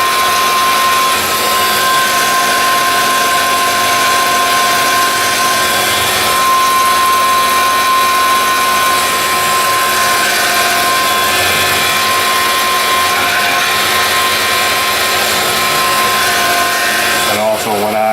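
Milling machine taking a finishing cut at 5,000 RPM on a BMW E39 radiator bracket, a loud steady whine with constant tonal hum and broadband cutting noise running evenly throughout, ending with a brief shift near the close.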